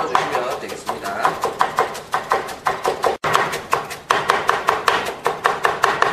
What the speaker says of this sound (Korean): 먼저 야채를 이렇게 채를 썰어주시면 되겠습니다